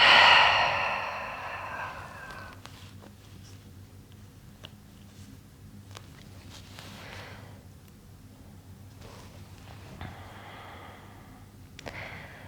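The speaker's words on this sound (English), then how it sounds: "Take a full breath in with me. And a full breath out." A deep breath drawn in and slowly let out during a live yin yoga session, a loud rushing inhale at the start fading into a long, soft exhale, with no talking.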